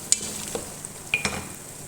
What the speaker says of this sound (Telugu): కొంచెం అల్లం వెల్లుల్లి పేస్ట్ కూడా ఫ్రై అయిపోయిందండి